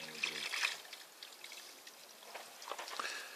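Water being poured in a trickling stream, with splashy dribbles and drops coming and going at close range, while people talk nearby.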